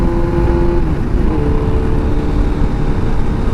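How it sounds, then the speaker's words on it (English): A Honda Hornet 919 motorcycle engine revs loud and close as the throttle is twisted, a continuous roar with a slight rise in pitch, heard alone without voices. "twist the throttle on this bike"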